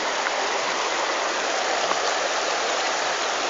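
Clear holy river water flowing steadily at a sacred site, a dense, even rush with no breaks, fairly loud and close, with no talking over it.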